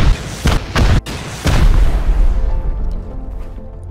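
Rockets explode in Rust: several heavy booms in quick succession, loud and close, followed by a long rumbling decay.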